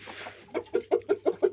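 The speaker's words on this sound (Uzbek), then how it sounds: "kichkina qora xo'rozimiz" A small black rooster clucks six times in a quick, evenly spaced run, close by and fairly soft, after a brief breathy noise.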